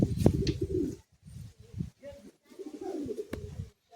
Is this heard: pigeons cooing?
yes